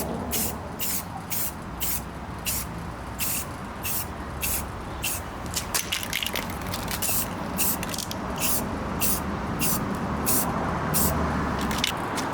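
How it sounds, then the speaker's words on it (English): Black spray paint, primer and paint in one, sprayed from a rattle can onto a stand in short repeated bursts, each hiss starting and stopping sharply, with a steady background rumble underneath. "spray the primer and paint all in one"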